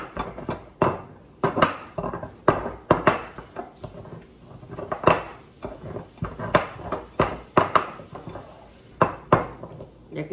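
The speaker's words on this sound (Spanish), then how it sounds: "Un jitomate, el ajo, el chile lo pico en dos" Knife chopping tomato, garlic and chile on a board in a home kitchen, a steady run of close, sharp knocks repeating about once a second, no talk.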